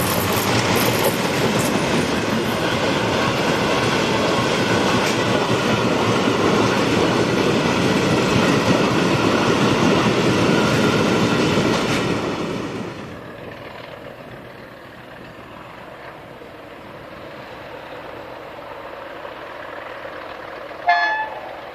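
Portuguese Class 1800 locomotive No. 1807 hauls a long car-carrier train out of the Setúbal docks, a loud, steady engine roar with rail rumble and horn tones that fades away as it passes, ending with a faint click.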